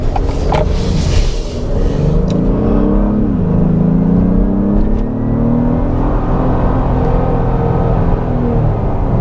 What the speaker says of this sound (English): Take a look at how it holds the gears in the Sport Plus setting.